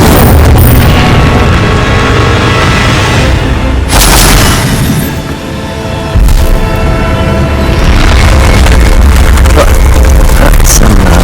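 Incendio fire spell blasts in the Hogwarts Legacy video game amid fights with giant spiders and forest trolls, loud booming whooshes over a constant roaring battle backdrop, with one brief lull in the middle.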